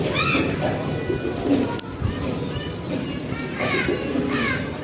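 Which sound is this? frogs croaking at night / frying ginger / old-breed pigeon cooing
old-breed pigeon cooing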